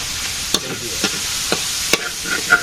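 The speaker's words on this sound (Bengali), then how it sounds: "মাছটা আগে ভেজে নেই" Dried fish (shutki) frying in a pan in a Bangladeshi village kitchen, a steady low sizzle punctuated by a few sharp scraping clicks of a spatula, close and moderately loud with no talking.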